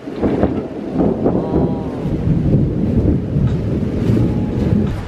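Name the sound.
rain with thunder during a storm in Thailand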